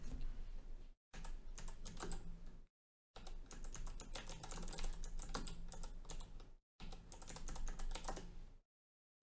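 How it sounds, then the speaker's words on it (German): Bursts of typing on a computer keyboard while playing the old computer adventure game Personal Nightmare: dense, rapid clicking runs in several stretches broken by short silent pauses, close and fairly loud, with no talking. "Ich war so fleißig am Tippen."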